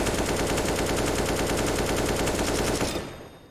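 A weapon in Battlefield 4 fires one loud, continuous automatic burst with rapid, evenly spaced shots for about three seconds, then cuts off into a brief fading tail.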